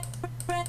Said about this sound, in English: that's just me clicking